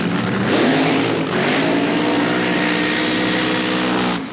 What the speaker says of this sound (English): And sounding beautifully sweet, Colin, there in lane 1